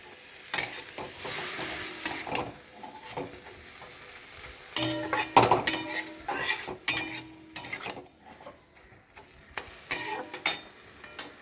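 Freshly picked jute leaves are stirred in a pan with a pinch of turmeric, giving irregular scraping and clattering of a spoon against metal over a faint sizzle, with quieter pauses between bursts.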